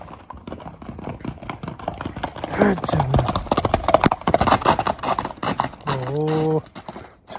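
A swift horse gallops with rapid, loud hoofbeats clattering close by, the rhythm running throughout, while people talk and call out over it.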